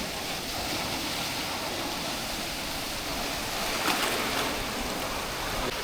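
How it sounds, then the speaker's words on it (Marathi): Large sea waves rolling onto the Mumbai shore, a continuous broad wash of surf that swells slightly near the end, with no voices over it. "आता बघा लाट्या पण खूप मोठ्या मोठ्या येऊ लागल्या"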